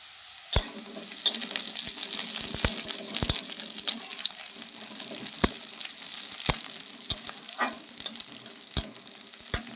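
Green chillies hit a pan of sizzling chela fish curry, giving a steady loud frying hiss broken by sharp pops and spatters, with occasional stirring clatter.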